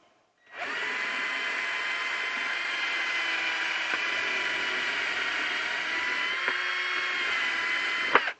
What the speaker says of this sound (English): I will start by pre-drilling a hole there